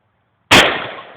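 A single loud gunshot fired at a toilet rings out after a short silence, its sharp crack trailing into a long, fading decay.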